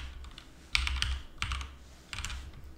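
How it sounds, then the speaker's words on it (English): A password is typed on a computer keyboard in a few quick bursts of key clicks separated by short pauses, close and fairly quiet, with no talking. "so I'll just do admin, type in my password"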